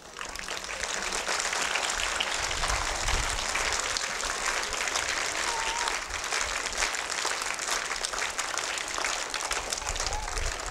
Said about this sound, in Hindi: हाँ ताली अच्छी बज रही है।